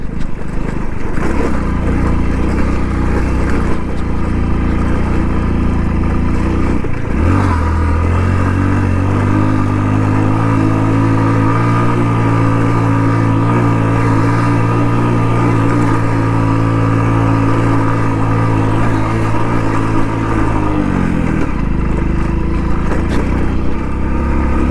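Solo Splendor motorcycle climbing a steep, rough off-road mountain track near Dharmapuri, its small engine droning loud and close throughout, with the pitch dropping and straining at one point, then holding a labored steady tone.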